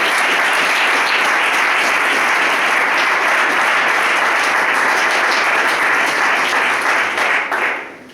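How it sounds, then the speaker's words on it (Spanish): A crowd at a solidarity rally for Panrico workers breaks into loud, sustained applause. Thick, continuous clapping fills about seven seconds before tapering off at the end. "ahora dar un aplauso a la gente de aquí de la Asamblea de San Martín con muchas fuerzas y muchas"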